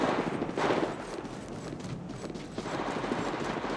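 Rapid automatic gunfire from the Apex Legends Mobile game, a dense, loud stream of shots rattling continuously for a few seconds with little pause.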